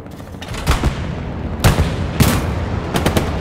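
Bursts of gunfire hit a tank in the World War II shooter Hell Let Loose, several sharp loud cracks spaced about a second apart over a low rumbling battlefield background.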